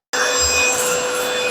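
A cordless vacuum cleaner switches on abruptly and runs on a staircase, giving a loud, steady high-pitched motor whine with a slight shift in tone as it is moved, and no talking.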